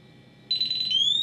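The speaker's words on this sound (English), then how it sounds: "there's the alarm. And it's locked out" A Kaer gun safe sets off its alarm after repeated failed fingerprint attempts: a loud, piercing electronic tone cuts in abruptly after a quiet moment and holds steady, rising slightly in pitch near the end.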